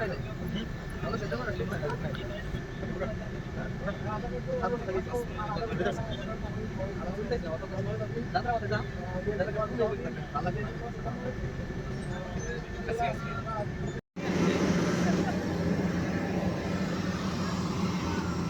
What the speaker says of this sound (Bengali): আস্তে আস্তে বাস আগাচ্ছে